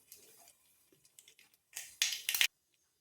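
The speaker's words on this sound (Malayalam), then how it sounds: "കടുക് ഇടുമ്പോൾ തന്നെ ഇതുപോലെ പൊട്ടിത്തെറിക്കണം." Mustard seeds spluttering in hot coconut oil, scattered faint pops and crackles that swell into a few loud bursts of sizzle before stopping abruptly.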